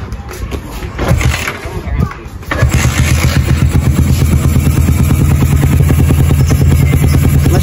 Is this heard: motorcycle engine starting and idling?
yes